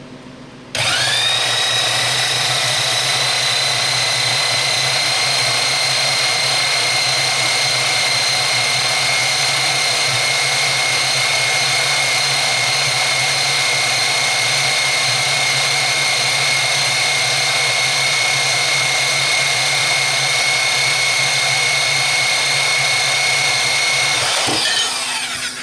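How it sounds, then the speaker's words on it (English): A power bandsaw runs steadily and loud for about 25 seconds with a constant high motor whine, starting up at the beginning and winding down at the very end, with no talking over it. "I bought this power bandsaw 10 or 12 years ago."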